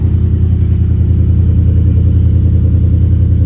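A 2025 Ford F150 with an MBRP S5211 cat-back exhaust cruises under normal driving, giving a steady, loud low drone heard from inside the cab.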